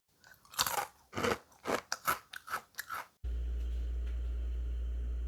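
A crunchy fried fish snack is chewed close to the mouth, with about eight sharp rhythmic crunches over three seconds, followed by a steady low rumble.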